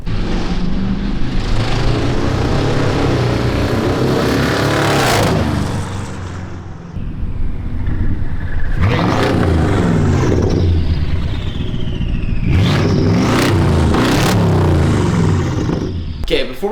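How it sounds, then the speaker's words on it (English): A straight-piped, twin-turbo 600-horsepower BMW V8 on an aggressive tune roars loudly as it accelerates past, with rising and falling engine sweeps over several close drive-by passes and sharp revving bursts. "I think we should get some drive-bys before we put it back on the lift."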